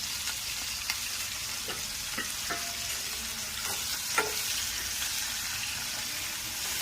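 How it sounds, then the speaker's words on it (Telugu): Tomato, onion and green chilli fry steadily in oil for a fish curry, a continuous sizzle with a few soft stirring scrapes and clinks along the way, close and moderately loud with no talk. "ఇది మంచిగా ఆయిల్లో టమాటా, ఉల్లిపాయ, పచ్చిమిర్చి మగ్గనిచ్చుకోవాలి"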